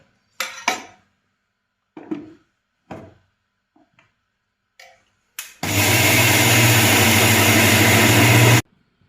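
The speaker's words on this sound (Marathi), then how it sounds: "आता आपण ते मिक्सरला बारीक करून घेणार आहे" A kitchen mixer grinds overnight-soaked rice into paste, starting abruptly after a few short clinks and knocks and running as a loud, steady whir for about three seconds before cutting off.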